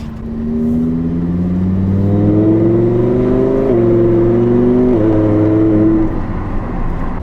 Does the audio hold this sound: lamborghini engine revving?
yes